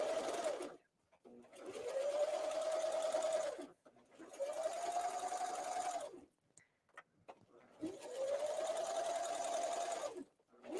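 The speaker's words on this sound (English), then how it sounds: "This is Brother's double cover stitch machine." A Brother double cover stitch machine hums steadily in three long runs as fabric sleeves are sewn, with short quiet pauses between runs. The sound is close and even, with no voices.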